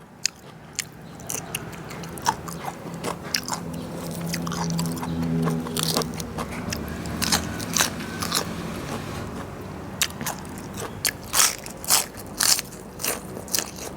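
Crisp, crunchy chewing of Thai raw beef salad with pheka pods, close to the mouth, with repeated sharp crackling bites and scraping munches in an uneven rhythm and no talking.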